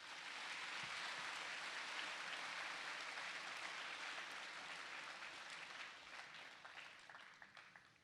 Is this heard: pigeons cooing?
no